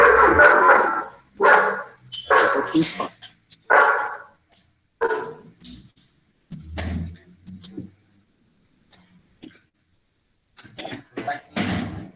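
Dogs bark in repeated bursts, fairly close, with pauses between volleys and a brief spoken phrase near the end.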